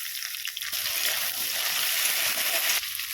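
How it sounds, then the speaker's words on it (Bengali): Water splashes into a hot pan of frying tomato, ginger, cumin and coriander while cooking tilapia curry, setting off a loud, steady sizzle that hisses on for several seconds. "সামান্য একটু প্লেটটা ধুয়ে জল দিয়ে দিচ্ছি"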